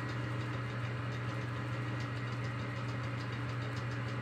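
A Climax BB5000 boring machine cuts worn copper, a steady mechanical hum and grinding drone that holds even and continuous throughout, close and fairly loud.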